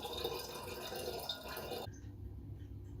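Water pouring through a cut-down plastic bottle used as a funnel into a homebrew keg, a steady bright rushing splash that cuts off partway, leaving a lower hollow trickle.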